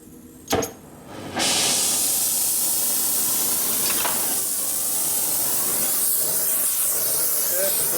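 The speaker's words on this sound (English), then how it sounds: "Cheap torch is already acting up." A cheap gas torch in a workshop where a 1957 Harley panhead is being worked on: a sharp click or pop, then a loud, steady, broadband hiss of burning gas that holds continuously close by.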